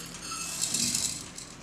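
Dry green gram lentils are poured into a mixer jar for herbal bath powder, giving a soft, brief rattling trickle of small grains against the jar that swells slightly mid-pour.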